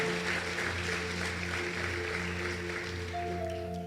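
A church congregation applauds, a steady wash of clapping that fills the clip, with a sustained tonal hum or music underneath.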